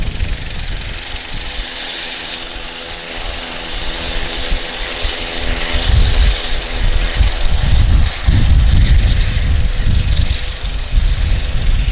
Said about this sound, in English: This is a nice looking helo for sure. This is going to go out for a test flight.